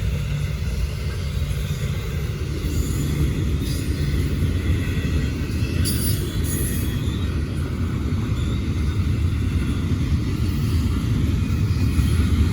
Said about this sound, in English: Since it is a heavy train.